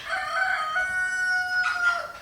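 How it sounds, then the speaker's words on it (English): Rooster crowing in the countryside, a single long drawn-out call that rises and then holds, loud and close with no one talking. "Sorry, roosters."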